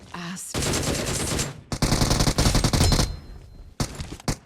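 Gunfire in the PUBG video game, rapid automatic bursts in several volleys separated by brief pauses, loud and close.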